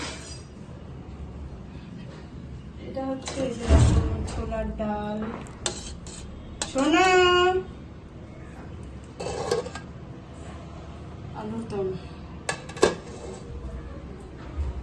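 Pots, pans and utensils clatter in a home kitchen while dal and an egg omelette are being cooked, with scattered clinks, scrapes and knocks at irregular intervals and a voice talking faintly in the background.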